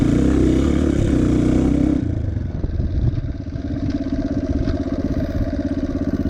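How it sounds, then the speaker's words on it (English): A dirt bike engine runs loud and close, holding a steady drone before dropping in pitch as the clutch is pulled and gears are shifted down, then settling into a rougher, pulsing idle. "I'm going to go on a higher gear, pull in the clutch, and then just shift it down."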